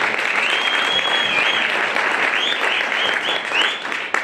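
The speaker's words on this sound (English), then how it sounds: "Let's give them a round of applause." An audience at a Rand Water excellence awards ceremony at the Zwartkopjes pumping site breaks into a steady, dense round of applause, many hands clapping loudly and continuously with a few whoops and cheers rising above it, and no speech.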